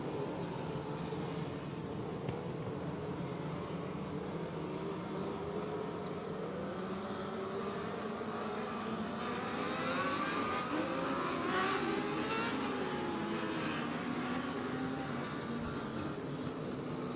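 Race cars circle a short track during a late caution period before the final double-file restart, engines droning steadily with rising and falling pitch as cars pass at a distance, a continuous blended roar with no talk.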